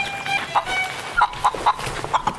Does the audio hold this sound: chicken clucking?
yes